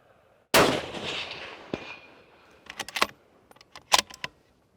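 A single sharp rifle shot from a Remington 700P in .308 Winchester cracks loud and close outdoors at a range, its report ringing off, followed by faint clinks and small handling noises.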